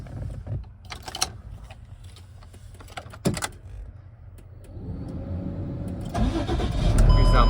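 A 2015 Ford F-750 26-foot box truck with a 6.7 liter Cummins ISB diesel is started, with clicks and a brief crank followed by the engine catching and settling into a loud, steady idle that swells toward the end.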